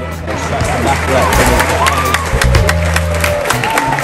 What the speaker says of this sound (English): Cue the random applause for approaching players.